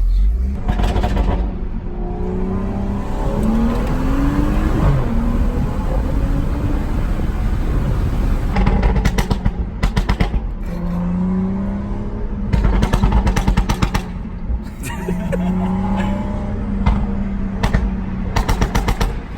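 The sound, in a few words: tuned BMW 335i exhaust burble and gunshot-like pops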